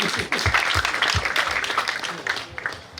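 A crowd breaks into loud, dense applause at a Rwandan dowry-giving ceremony, clapping continuously for a few seconds before it begins to thin out.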